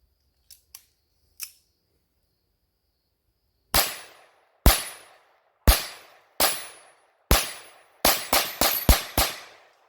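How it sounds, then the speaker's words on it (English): Rapid sharp .22 LR pistol shots firing CCI Mini Mags at an outdoor range, three faint distant pops followed by nine loud close reports, the last several fired in a fast string. "Two more magazines of the mini mags."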